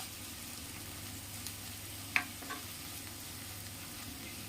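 Chickpea curry base sautéing in a pan, a steady low sizzle with a few soft clicks of a spoon stirring, quiet and close with no voices.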